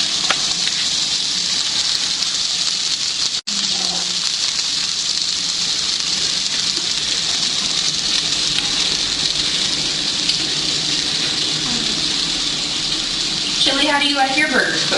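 Burgers fry in a pan over medium-high heat with a constant loud, close crackling sizzle, broken once by a brief sharp click; a voice speaks faintly near the end.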